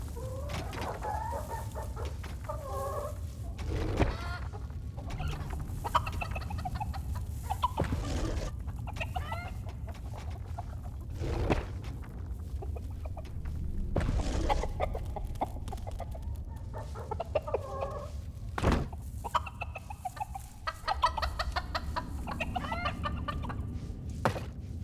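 Poultry-like gobbler creatures cluck and crow steadily on a farm in the Dungeons 4 video game, with repeated loud calls over a constant low background hum and no talking.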